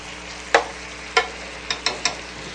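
Vegetables being stirred in a pan with sausage balls nearby, heard as five sharp scraping clicks at irregular intervals over a low, steady sizzle close by.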